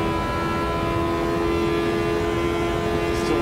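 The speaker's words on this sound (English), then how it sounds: "Still like the rev limiter." A race car engine in Automobilista 2 on the Nordschleife holds a loud, sustained high-revving drone near the rev limiter, a steady buzzing whine with no pauses.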